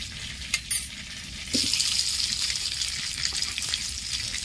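Potatoes are dropped into hot oil left over from frying prawns. After a quiet moment with a couple of small clinks, a loud, steady hissing sizzle bursts in and continues close-up to the end.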